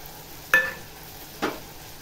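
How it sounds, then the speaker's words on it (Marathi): Spices being stir-fried with cabbage in a pan, heard as two quick spatula scrapes about a second apart over a faint low sizzle. "मसाले टाकल्यावर पण चांगलं असं परतून घ्यायचं"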